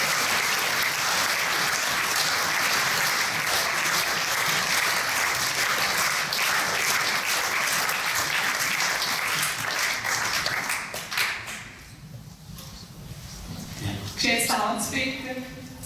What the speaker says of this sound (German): Darf ich mit einem herzlichen Applaus